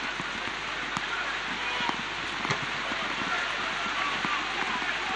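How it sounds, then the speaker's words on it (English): Steady rain falls during a football match, a dense, even hiss with faint scattered taps, constant throughout and close, under a commentator's voice. "very, very steady rain now"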